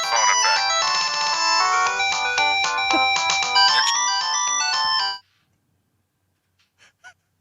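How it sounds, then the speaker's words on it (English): A bright electronic ringtone melody plays loudly for about five seconds, then stops abruptly, leaving near silence with a couple of faint clicks. "That's my phone effect."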